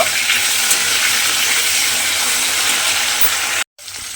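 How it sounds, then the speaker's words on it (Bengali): Flat beans fry with turmeric and salt in a pan, giving a steady loud sizzle close up that cuts out abruptly near the end before resuming. "নুন আর হলুদ দিয়ে আমি শিমগুলো একটু প্রথমে ভেজে নেব"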